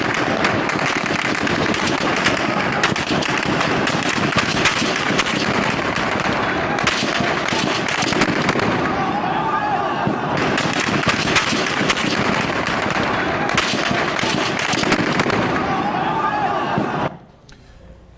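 Repeated gunshots at a street protest in Egypt, sharp cracks and bursts crowding together loudly over a continuous roar of crowd noise and shouting, ending abruptly near the close.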